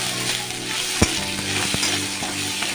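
Mashed boiled potato is stirred and fried in a pan, giving a steady close sizzle with a sharp scrape of the spatula about a second in and lighter stirring knocks after.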